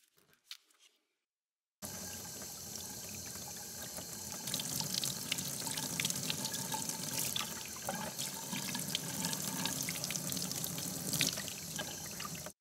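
Running water splashes steadily from a tap as a polished item is rinsed, starting abruptly after a brief quiet moment and continuing loud and close until it cuts off at the end.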